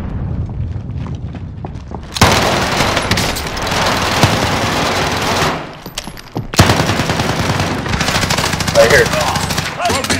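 Rapid Uzi submachine-gun fire in Call of Duty: Modern Warfare, loud sustained automatic bursts with a brief pause in the middle, game sounds and voices mixed underneath.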